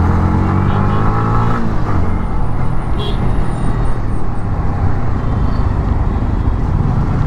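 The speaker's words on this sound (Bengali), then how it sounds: "দেখেন কতগুলা বাইক চলে গেল ওর আগে" Motorbikes pass in busy road traffic, a loud, constant roar of engines and road rumble heard from close by on the move, with no break in the noise.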